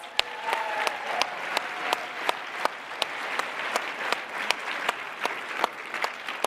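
Audience at the eBay Open seller event applauding the participants: steady crowd clapping with sharp, regular individual claps standing out near the microphone, no talk over it.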